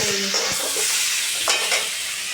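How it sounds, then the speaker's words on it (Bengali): Potatoes sauté in a pan for a cabbage dish, a dense close sizzle with a few scraping stirs of a spoon through the pieces. "ভালো করে আমি কষিয়ে তারপরে জল দেবো।"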